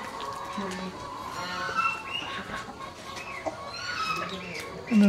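Chickens cluck intermittently in a busy outdoor farmyard at an agricultural farm, with ducks, other birds and distant voices mixed in the background.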